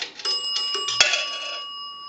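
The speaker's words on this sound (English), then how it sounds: "That's going to ring the bell 2 times." A dime passes through an Automatic Electric three-slot payphone's coin mechanism, sounding two bright bell dings a moment apart over light metallic rattling, with the tone lingering afterward.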